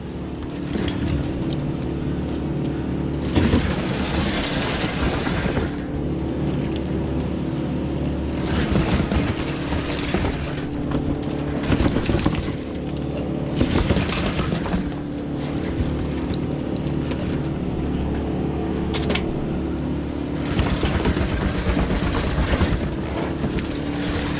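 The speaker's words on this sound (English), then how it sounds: "I can hear the motor slowing down." Electric Eel Model C drain cleaning machine's motor runs steadily and loudly, with periodic surges and bogging as the cable works through something in a drain line, repeating in roughly five-second cycles.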